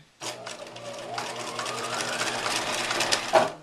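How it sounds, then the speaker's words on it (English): A sewing machine runs a zigzag finishing stitch along a trimmed curved crotch seam on pyjama pants, humming steadily and close up for a few seconds after a brief start, with a small clatter near the end. "that's going to be zigzag finish. So remember to change the stitch width, and then I'm going to line up the edge of the presser foot"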